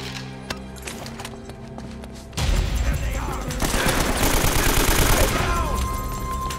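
Gunfire in Uncharted: Drake's Fortune Remastered, a dense, loud, continuous clatter of shots and action noise that starts abruptly and carries on to the end, with no talk over it.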